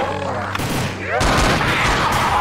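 Rapid gunfire bursts from the Roblox zombie game Project Lazarus, loud and close, with a player's excited voice shouting over the shots.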